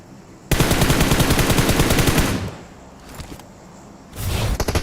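Rapid automatic gunfire from BGMI, the mobile battle royale game, rattles in a long loud burst, pauses, and then resumes with another burst. No one speaks.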